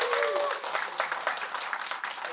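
Audience applause fills a fan convention panel for a 1981 horror film's cast reunion, a steady patter of clapping at moderate distance, with a voice briefly audible over it.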